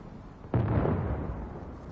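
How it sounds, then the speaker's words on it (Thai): In the video game Uncharted 4: A Thief's End on PS4, a sudden deep boom at about half a second is followed by a long rumbling roar that slowly fades, like a large explosion. "ก็ยังคงมีเสียงระเบิดอยู่นะแสดงว่ามีอีกกลุ่ม"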